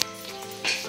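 Bamboo shoots fry on a hot tawa with a soft hissing sizzle, joined by faint oily crackle that swells briefly near the end, over a low steady hum.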